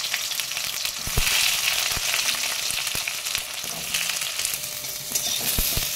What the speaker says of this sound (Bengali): হালকা নাড়াচাড়া করে এরকমভাবে ভেজে নিচ্ছি